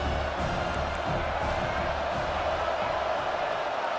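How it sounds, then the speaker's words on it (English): Home crowd at a Virginia Tech versus Notre Dame college football game, a steady, dense roar of cheering filling the stadium. "Man, this crowd really affecting the football game."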